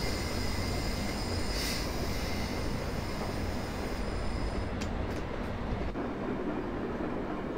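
A Vossloh G6 diesel shunting locomotive in Train Simulator 2020 brakes in the Hamburg port yard, giving a steady loud rumble with faint brake squeals and clanks near the end and no talking.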